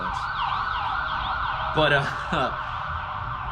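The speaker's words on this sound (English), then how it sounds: "I think it's an ambulance." An ambulance siren wails steadily in the background, its rising and falling tone continuous while someone briefly speaks over it near the middle.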